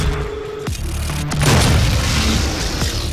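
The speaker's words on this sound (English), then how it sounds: "There's grenades." A grenade blast in the video game DOOM booms loudly after a short clicking lead-in, its broad rumbling roar filling the rest of the moment amid game sounds, with no talk over it.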